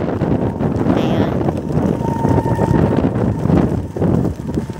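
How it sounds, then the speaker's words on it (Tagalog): Strong wind buffets a microphone on a 12th-floor balcony, a loud, continuous roaring rumble with gusting swells throughout, and no other sounds standing out. "Sobrang hangin dito."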